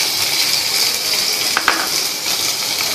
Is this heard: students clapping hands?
no